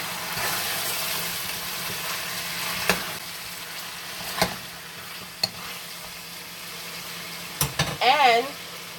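Marinated oxtail fries in a pot while being stirred, a steady close sizzle broken by several sharp scrapes and knocks of the spoon, with a brief voice near the end.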